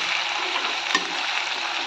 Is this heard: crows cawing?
no